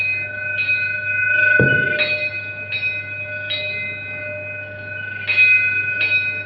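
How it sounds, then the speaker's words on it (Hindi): A recorded temple bell from Lord Ram's place in Ayodhya rings in a series of clear metallic strikes over a steady droning tone, with one louder clang early on and repeated lighter chimes after. "यहाँ पर भगवान राम जी का वहां की जो साउंड है घंटी की, उसको रिकॉर्ड करके इसमें डाला गया है"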